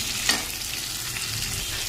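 Chicken pieces fry in a pan with salt, turmeric and black pepper, a soft steady sizzle with a brief scraping stir near the start, close and alone.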